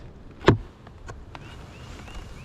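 Honey bees buzzing around an open hive in April as a swarm nears, a faint, thin hum with a few louder passes near the ear and a sharp knock of the hive lid.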